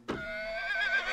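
A cartoon horse gives a single close, clear whinny, a bright rising-and-wavering neigh that starts abruptly and holds for about a second.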